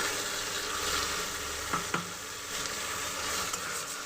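A spice paste fries in hot oil in a pan for a fish curry with ridge gourd and potato, making a steady, close sizzle with two brief scraping knocks partway through.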